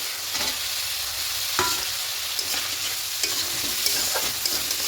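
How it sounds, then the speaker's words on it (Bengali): Spice masala being stir-fried with fried potatoes in a pan, a constant close sizzle punctuated by repeated scraping strokes of the spatula. "এবার আলুর সঙ্গে মশলাটা একটু ভালো করে কষিয়ে নেবো"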